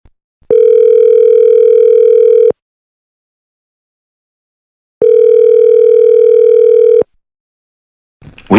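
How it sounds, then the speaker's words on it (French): Two long, steady electronic ringback tones sound while a call is placed to an interviewee, separated by silence, with a brief rustle at the very end. "Je loge donc un appel à Luc pour avoir son retour sur l'événement"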